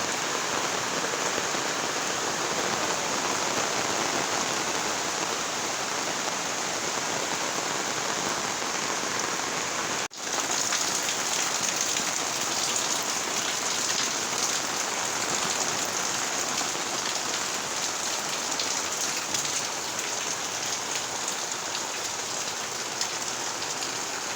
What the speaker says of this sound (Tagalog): Kusog lang hapon ang ulan.